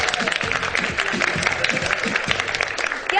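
A morning show studio audience claps, a dense, steady burst of applause filling the room while a host's voice carries over it.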